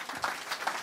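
A church congregation in Evry breaks into brief applause, a short burst of many hands clapping with a couple of louder swells.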